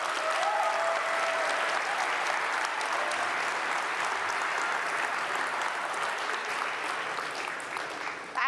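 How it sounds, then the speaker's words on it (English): A lecture audience gives a long round of applause, a dense continuous patter of many hands at a steady level that tapers slightly near the end, with no voices over it. "So I wonder if you would maybe just give them a round of applause."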